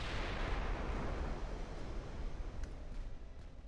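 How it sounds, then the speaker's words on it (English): Secondary guns of a dreadnought-era warship firing in the naval battle game Ultimate Admiral: Dreadnoughts, a continuous rumbling barrage of distant booms blending into a low roar, with no voices. "our secondaries are already firing"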